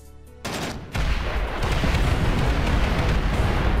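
A massive warhead explosion in the video game Space Engineers bursts in, building into a sustained, deep rumbling roar with crackling debris, loud and continuous after a brief quiet lead-in.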